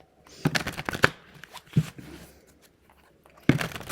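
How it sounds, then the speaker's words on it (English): Playing cards are handled and shuffled close by, a few crisp riffling bursts and snaps separated by short pauses. "Get it open, get the cards."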